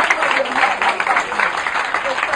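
A church congregation applauding God, a dense wash of clapping from many hands that carries steadily throughout while a voice speaks over it.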